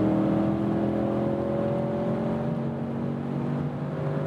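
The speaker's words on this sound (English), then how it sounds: "I'm here at 150 kilometers an hour, and now I shift back twice." A 4-litre V8 Audi S8 cruises the Autobahn around 150 km/h, its engine a steady, loud droning hum with tonal whine and road roar, holding an even pitch with no clear shift breaks.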